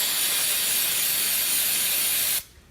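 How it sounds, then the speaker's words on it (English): Aerosol brake cleaner sprays in a steady, loud, close hiss onto a Ford 4R70W transmission pan and then cuts off abruptly near the end. "we'll actually use brake clean on here"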